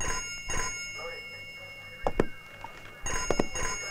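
A telephone rings in short repeated bursts, fairly faint, with brief knocks and quiet voices in the room.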